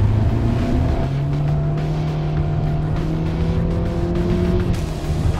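A 2024 Mitsubishi XForce accelerates hard on a race circuit, engine droning loud and close from inside the cabin, pitch rising steadily then dropping at a gear change before climbing again, with constant road and wind roar.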